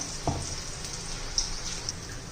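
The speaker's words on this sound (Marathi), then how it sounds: "थोडे थोडे करून आपण हे सर्व तळून घेऊया." Moong dal bhaji batter fries in hot oil, a soft steady crackle and light sizzle with a few sharper pops and one brief clatter near the start, fairly quiet with no voices.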